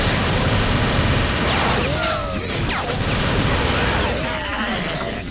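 Grenade launcher explosions in TimeSplitters 2 arcade mode: a loud, continuous barrage of crashing blasts and booms, with speech mixed in.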